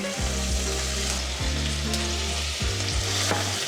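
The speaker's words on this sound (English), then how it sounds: "You hear that nice sizzle? That's perfect." Onions, celery and garlic sizzle and crackle steadily in a hot pan, with a few clinks and scrapes from stirring cutting through the frying hiss.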